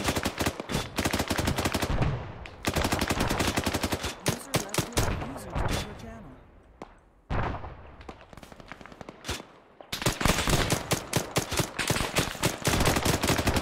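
Rapid gunfire in the military shooter Arma 3 during a convoy dismount, dense bursts of automatic fire and single shots crackling loudly, with a brief lull in the middle before heavy firing resumes.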